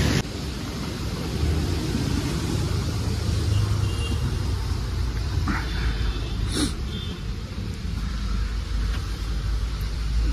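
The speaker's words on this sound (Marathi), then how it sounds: "ही आमची गाडी आहे." Car driving along a road in the morning on the way to Naneghat, a loud steady rumble of engine and tire noise from inside the vehicle, with a brief clatter midway and faint voices underneath.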